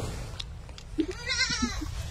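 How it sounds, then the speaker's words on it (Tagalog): A sheep bleats once with a wavering, harmonic cry against a low outdoor rumble on a Saudi vegetable plantation, with a brief lower call just before it. "So ito yung mga tupa dito."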